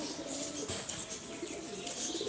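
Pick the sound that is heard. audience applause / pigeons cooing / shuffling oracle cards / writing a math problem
pigeons cooing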